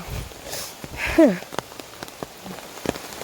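Heavy rain falls on a village path, a dense patter of drops with scattered sharper splashes and a brief louder burst, steady and close throughout.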